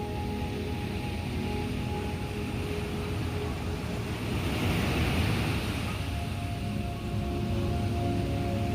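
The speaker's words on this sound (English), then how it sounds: "Let the sound of the waves wash over you and take you even deeper." Ocean waves wash onto a shore in a continuous, even hiss, with a gentle swell of surf building near the middle, steady and moderately loud with no voices.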